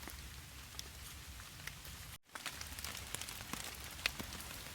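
Rain falling in the woods on a Hungarian military canvas shelter half, a soft, steady patter heard faintly with occasional sharper drops and no voices.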